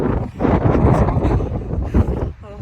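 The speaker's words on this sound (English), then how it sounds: "It's not cold, but it is windy" Strong gusting wind buffeting the microphone, a loud rushing roar that swells and dips throughout.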